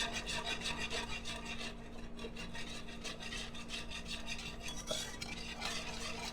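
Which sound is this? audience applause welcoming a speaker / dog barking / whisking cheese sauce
whisking cheese sauce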